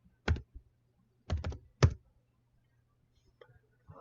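A computer keyboard typed on in three short bursts of quick clicks, close and clear in a quiet room, followed by a couple of faint taps.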